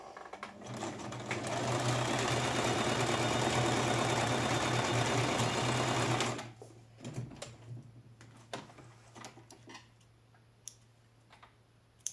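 A sewing machine stitching over elastic for ribbed leggings runs loud and steady for about six seconds, then stops, leaving scattered clicks and handling noises.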